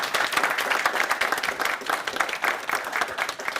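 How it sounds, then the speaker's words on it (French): Applause for guests at a debate event, with a dense crowd of clapping hands sustained at steady loudness from start to finish. "On peut l'applaudir"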